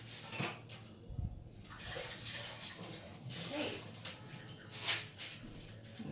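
Running water splashes and gurgles as a whisk is rinsed under a tap, with intermittent sloshing and clinks at close range throughout the clip.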